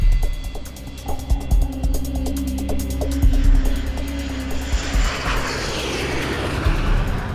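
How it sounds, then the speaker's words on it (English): A steady aircraft engine drone fills the scene of a Korean Air Lines airliner in flight near Sakhalin, with a continuous loud rumble and some scattered clicks and static. "The airliner is just seconds from flying over the island of Sakhalin."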